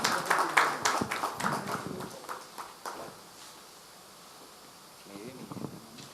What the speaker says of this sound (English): Can we have a round of applause, please?